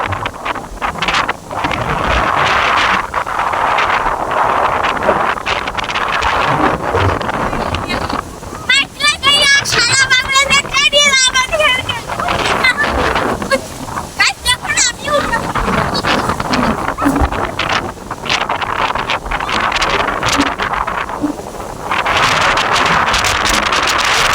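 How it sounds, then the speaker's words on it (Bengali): A fierce storm wind roars and buffets through trees in rural Bangladesh, battering the microphone with loud, continuous gusts. Voices speak at times over the blowing. "এই সময় এই ভীষণ ঝড় উঠেছে। এই ঝড়ে দেখেন গাছের আগা পাতা মনে হয় ভেঙে যাবে, এরকম ঝড় উঠছে।"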